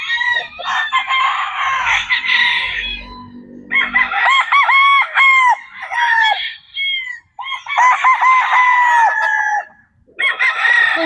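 Imported game fowl roosters at a game farm crow loudly and repeatedly in long drawn calls, with low clucking between crows, close by and with no talk over them.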